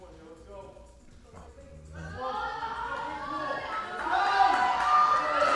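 Crowd at a weightlifting competition cheering and shouting, building from a quiet murmur to a louder, sustained roar of voices toward the end as a lifter steps up for his second attempt.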